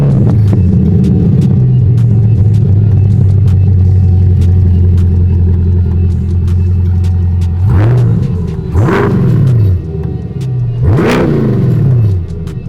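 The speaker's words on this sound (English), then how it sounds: "Full Fab Speed exhaust, sounds amazing." A murdered-out C8 Corvette with a full Fab Speed non-valvetronic exhaust, valves always open, idles with a loud, deep, steady rumble, then snaps through three sharp revs that rise and fall, close and very loud.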